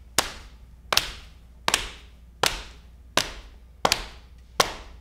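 Seven sharp, evenly spaced claps keep a steady beat together, each crisp hit standing alone with a brief fading tail, close and clear with no talking.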